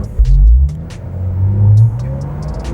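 A Porsche engine rumbles deep and loud through its exhaust after the exhaust button is pressed, swelling and easing with no voices over it.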